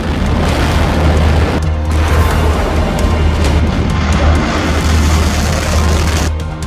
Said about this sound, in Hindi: जब ईरान की ये मिसाइल फायर की जाती है तो तस्वीरें ऐसी होती हैं।